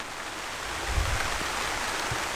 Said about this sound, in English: Starting to rain on me here, so better go back inside.